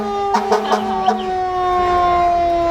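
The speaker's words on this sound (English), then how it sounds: "They're honking the horn, have the siren going." A fire truck in a street parade sounds a steady wailing siren that holds a sustained tone throughout, with short horn-like blasts and crowd noise over the opening second.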